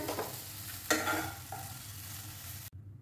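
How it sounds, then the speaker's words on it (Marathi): Rambha pak, a banana sweet with dry fruits, being sautéed in a pan: soft scraping stirs with a brief louder scrape, light sizzle underneath, quiet and close, cutting off abruptly at the end. "आता हे थोडंसं परतून घेतोय"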